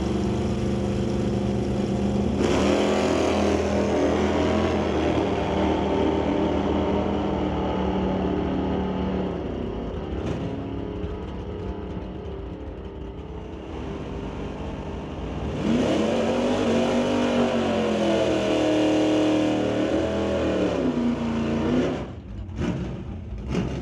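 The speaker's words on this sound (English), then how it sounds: "The 67 Plymouth Belvedere dials in at 12:57 to race against the Lordco Auto Parts Meteor" At a bracket drag race, a 1967 Plymouth Belvedere and the Lordco Auto Parts Meteor roar off the line. Loud, sustained engines climb in pitch through the run, then a second surge follows before tapering off.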